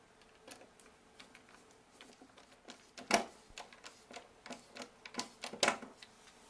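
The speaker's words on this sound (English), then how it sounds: "secure the light using 3 screws" Screws driven in by hand to fasten a surface-mount LED light fixture on a boat: faint, quiet clicking and ticking with a couple of sharper snaps, irregular and close by, with no talking.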